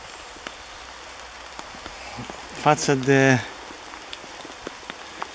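Steady rain patters on a tent, either a Lavvu or a DD pyramid shelter, a constant hiss of drops on the fabric with a brief stretch of someone speaking partway through.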